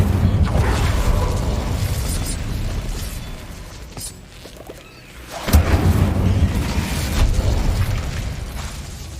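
Incendio fire spell cast repeatedly in Hogwarts Legacy, loud whooshing bursts of flame over dense game noise, with a brief lull before another fiery eruption.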